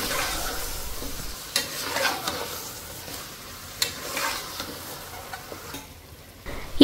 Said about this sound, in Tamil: இந்த தயிரோடு சேர்த்து நம்ம இந்த சிக்கனை நல்லா வதக்கிக்கலாங்க